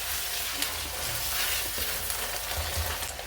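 Food fries and sizzles in a pan seasoned with salt and pepper while being stirred, a dense continuous crackle with occasional scraping clicks, close and steady, no voices.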